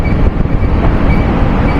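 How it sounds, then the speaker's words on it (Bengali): A loud, steady rumble of the Dhauli Express passenger train rolling along the tracks as it arrives at Puri, continuous and close with no talking. "এই ট্রেন আমাদের পুরী প্রবেশ করছে"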